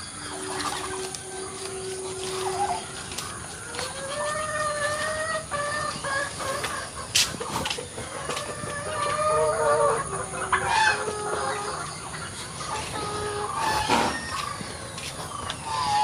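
Backyard chickens clucking steadily while they feed on sweet potato leaves, several birds close by with overlapping clucks and short calls over a quiet outdoor background, with no talk.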